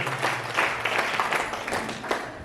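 Audience applause at a gathering at St. Thomas Shrine, Malaiyadipatty, a short burst of steady mid-level clapping from a crowd indoors, lasting a couple of seconds.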